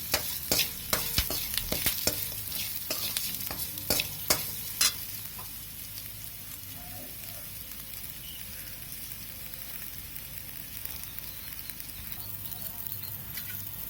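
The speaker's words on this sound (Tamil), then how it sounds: "வெள்ளைப்பொடி நல்லா இந்த மாதிரி பொன்னிறமாக கொஞ்சம் வதக்கிட்டோம்னா சாப்பிட நல்லாயிருக்கும்" Garlic sautéing in a pan for a Tamil mochai kulambu, with sharp clinks and scrapes of stirring through the first seconds over a steady sizzle that continues alone and evenly to the end.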